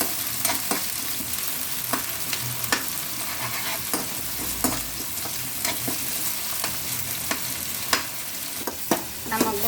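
Chopped tomato and gongura leaves sauté in a pan, giving a constant sizzle with frequent scraping stirs and small pops at an irregular rhythm, close and moderately loud.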